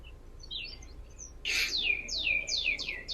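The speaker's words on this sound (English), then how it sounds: "I heard the birds chirping," Birds chirp outdoors in a string of quick, bright tweets, first faint and scattered, then louder and closer in a rapid repeated series, with no talk.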